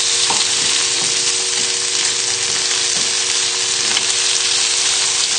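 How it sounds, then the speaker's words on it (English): Chilli pesto stirred into sausages frying in a pan: a loud, continuous close sizzle with soft scraping strokes of the spoon repeating every second or so, no voices. "So just give the pesto a stir in with the sausages."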